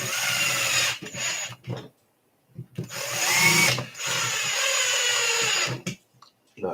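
Power drill driving screws into the parts of an Arrma Kraton 6S RC car: several close, whirring runs of the motor separated by short pauses, ending in quieter clicks.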